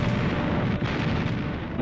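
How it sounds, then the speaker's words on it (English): The battleship USS Texas fires her 14-inch naval guns in 1944 at German emplacements near Cherbourg, a dense, loud, continuous roar of heavy gunfire and booms with no clear pauses. "the Texas started firing her 14-inch shells at the German emplacements"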